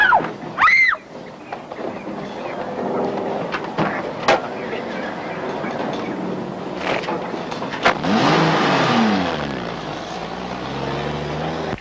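A car engine starts and pulls away, rising to a loud revving drone that builds toward the end, with brief speech near the start.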